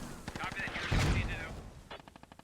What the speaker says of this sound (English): Mortar right on top of your own position just about.